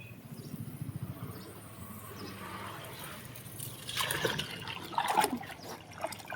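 A solar-powered submersible garden pump sends a trickling stream of water, faint and steady, that grows into brighter splashing toward the end.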